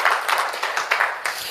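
A church congregation claps hands hard in quick, rhythmic succession, with sharp, regularly spaced claps at moderate volume.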